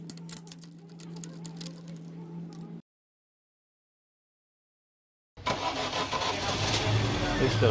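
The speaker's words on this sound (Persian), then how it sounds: "خودرو روشن شد." An EF7 car engine being started after carbon cleaning: cranking and running noise, then a gap of silence, then the engine catches and runs loudly and steadily close by, with voices talking over it.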